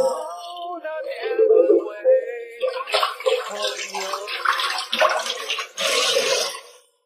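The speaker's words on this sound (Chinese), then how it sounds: "这个锅给它洗一下" A cooking pot is rinsed and scrubbed under running tap water, a steady close splashing and gushing that swells loudest near the end, with a person talking over the start.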